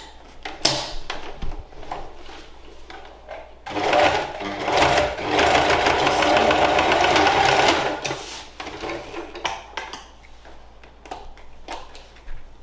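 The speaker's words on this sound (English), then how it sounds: "And we're just going to do a little top stitch." Sewing machine top stitching an oilcloth tote bag, a loud steady whirring run in the middle framed by shorter bursts and handling clicks before and after.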